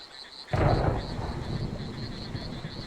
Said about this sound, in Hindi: अरे माधव भैया, इस आधी रात को इस प्रलय वाले तूफान में तुम यहाँ क्या कर रहे हो?